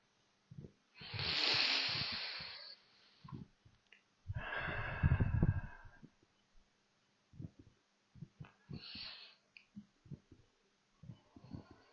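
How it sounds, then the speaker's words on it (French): Slow, deep breaths taken while seated at the start of a heart meditation, several long airy inhales and exhales a few seconds each, close and moderately loud, separated by quiet pauses and soft small sounds. "Prenez 3 grandes respirations"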